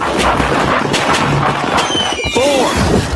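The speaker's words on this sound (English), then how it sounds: "light one firework at a time and keep your fingers every time" Fireworks going off during a backyard fireworks safety segment, heard as dense crackling and popping bursts spread across the clip at close range, with a faint voice mixed in.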